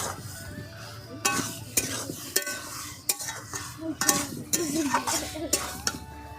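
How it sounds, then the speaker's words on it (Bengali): Fried new potatoes are stirred into spice masala in a pan for aloo dum: repeated metal spatula scrapes and knocks over a gentle sizzle, irregular and close. "এবারে দিয়ে দেবো এই ভেজে রাখা আলু"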